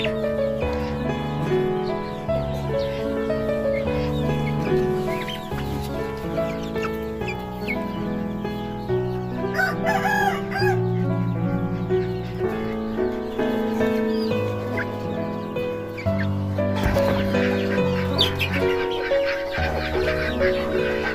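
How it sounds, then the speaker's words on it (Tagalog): Chickens and a rooster on a poultry farm, with dense continuous clucking and several crows rising over the flock throughout, loud and close. "yan ho, ang ating mga alagang manok"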